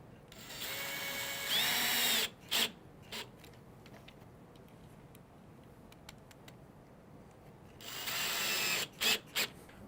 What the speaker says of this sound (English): You can then drive the screw all the way in.